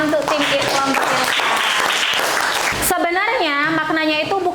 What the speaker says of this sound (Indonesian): Ya boleh kasih tepuk tangan untuk tim kelompok Irfan